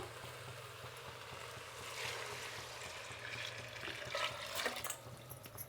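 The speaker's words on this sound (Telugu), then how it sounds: "ఈ నీళ్ళు అందులో పోసేద్దాము" Hot water pours and splashes into a pot of jackfruit pieces, a soft continuous gush that swells toward the end, fairly quiet and close.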